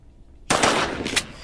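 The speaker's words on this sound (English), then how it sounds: "And then when I shot, it double shot." A gunshot in the video game Granny 2 fires as a rapid double shot, two sharp bangs close together with a short tail, loud and close with no talk.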